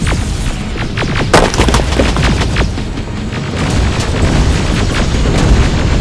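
Terminator: Resistance battle: dense, continuous gunfire with heavy booming explosions and sharp crackling shots piling up over a loud, rumbling background, sustained throughout.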